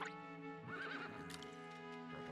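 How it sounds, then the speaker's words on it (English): A horse named Dawn whinnies loudly in the video game Palia, a single drawn-out neigh with a shaky rise and fall, alone and close with no talk over it. "this is my horse that I ride"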